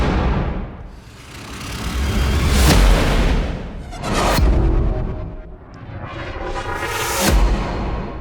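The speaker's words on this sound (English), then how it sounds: "Whoosh bangs are essentially transitional type effects that you can add to any piece of music to get from one section to another." Tempo-synced whoosh-bang transition effects for music production: several loud swelling whooshes rise into heavy booming hits, repeating roughly every two to three seconds with deep low-end impact and bright noisy tails.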